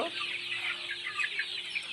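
Chickens cluck continuously in a dense, chattering flock, close and steady with no talking.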